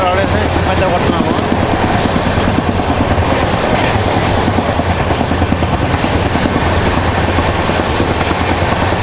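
Tirupati to Visakhapatnam AC double decker express train speeding through a station without stopping, a loud, constant rumble with rhythmic wheel clatter heard from inside the coach, with voices faintly mixed in.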